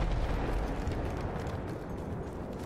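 Flare gun going off in a shooter video game, a dense, sustained roaring burst that fills the whole stretch at steady loudness with no talk over it.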